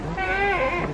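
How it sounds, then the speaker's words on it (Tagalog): A goat at a zoo gives a single loud, close, wavering bleat lasting under a second. "Tingnan niyo tong kambing, ang ganda ng kulay niya."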